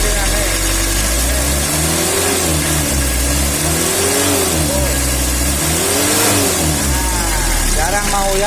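A rough, untuned Mitsubishi L300 engine revs hard and loud up close, its pitch climbing and falling in repeated swells over a steady throbbing base.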